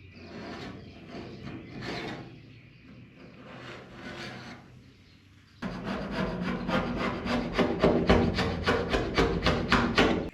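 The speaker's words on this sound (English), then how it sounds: "We're gonna peel this plastic off and see how it did." Plastic sheeting being peeled off paint stripper on a Dodge D100 truck body, a crackly rubbing and tearing that grows louder and steadier halfway through, with repeated rhythmic strokes close by.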